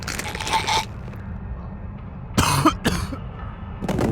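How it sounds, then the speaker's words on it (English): Wrestler coughing in the video game Wrestling Empire, a few short bursts of rough coughing spaced apart over a low steady background. "He seems to be coughing."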